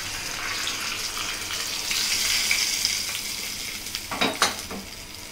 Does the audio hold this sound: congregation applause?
no